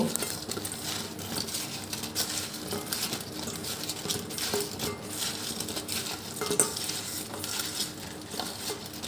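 Pointed gourd pieces being mixed with chili powder by hand in a kitchen, giving a soft, continuous squelching and rustling at close range with occasional light clinks.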